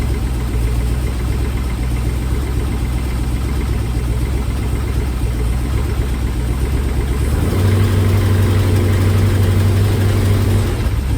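A carbureted LS V8 run on a factory PCM and an eBay wiring harness, with no MSD ignition, idles steadily and close by, a loud continuous rumble that deepens and thickens near the end.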